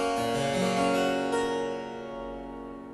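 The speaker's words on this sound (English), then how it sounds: "The upper manual has a different character or voice and sounds slightly brighter." Upper manual of a harpsichord with a slightly brighter voice, several crisp plucked notes forming a short phrase, then a sustained ring fading away, no voices.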